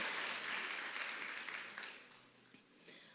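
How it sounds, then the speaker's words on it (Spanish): A crowd at a church convention session claps loudly at first, the applause gradually thinning and fading over a few seconds, with no voices. "Dese un aplauso para usted mismo, para el que está al lado"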